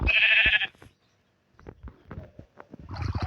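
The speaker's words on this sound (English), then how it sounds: "Oh, hello, Mr. Sheep." Sheep bleating in Minecraft, a loud nasal bleat at the start, then quiet scattered game sounds and rustles, with another burst of noise at the end.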